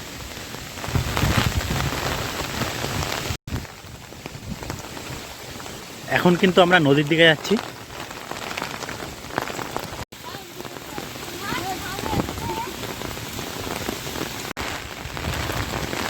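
Heavy rain pours steadily during Cyclone Remal at Jharkhali in the Sundarbans, a dense, continuous hiss that runs through the whole stretch while a person talks over it.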